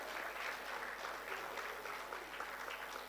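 Steady applause from a room of women at a high-level leaders' breakfast meeting, applauding the gentlemen present; a continuous, fairly quiet patter of many hands with no break.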